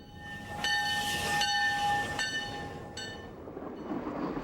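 White River Line tourist passenger train running near Flippin, Arkansas, sounding its horn in several sustained blasts over a low rumble of wheels and rail noise, fairly close and loud.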